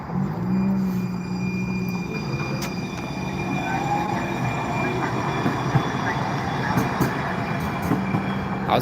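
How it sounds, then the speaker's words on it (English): A train in Charlotte passes by with a steady rolling rumble and faint wheel squeal, heard from nearby outdoors over continuous background noise. "Let me show you guys the train that goes around Charlotte."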